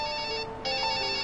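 Mobile phone ringing inside a test chamber, an electronic ringtone with sustained tones that briefly drops out then resumes, clear and close.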